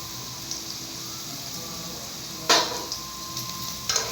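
Potatoes frying in a pan with green chillies and sugar give a steady low sizzle, broken by a couple of sharp scrapes and clinks of a spatula stirring, close and without talk.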